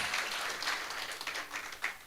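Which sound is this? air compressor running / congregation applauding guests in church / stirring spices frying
congregation applauding guests in church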